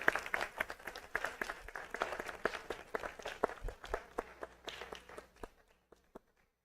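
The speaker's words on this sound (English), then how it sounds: "One more round of applause for our leaders in character" An audience at a school district board meeting applauds, with scattered claps and a few footsteps that thin out and fade into silence toward the end.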